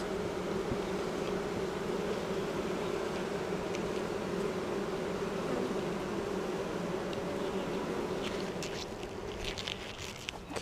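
Honey bees swarm around an open hive during a spring inspection, a dense continuous buzzing drone close to the listener, with a few faint clicks of handling near the end.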